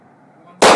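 AR-15 rifle fired at Ben Avery Shooting Range, an outdoor range: low background murmur, then a single sudden loud blast near the very end.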